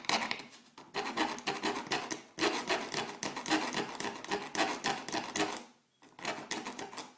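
Edge of a metal aircraft rudder rib being filed against a table, giving steady, rhythmic rasping strokes close by in long runs with short pauses between them.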